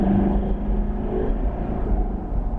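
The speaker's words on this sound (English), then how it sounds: "I've got that diesel rattle." Diesel engine of a 2021 Lexus LX450d rattling steadily at idle, a close, continuous low clattering rumble with no pauses.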